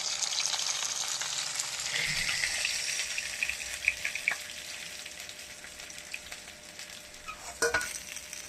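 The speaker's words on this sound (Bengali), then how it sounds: "দেখুন কড়া করে পোয়া ভোলা মাছ ভেজে নিচ্ছি ভোলা।" Bhola fish fries crisp in a pan, a continuous hissing sizzle of hot oil with a few utensil taps and scrapes, fairly close, no voices.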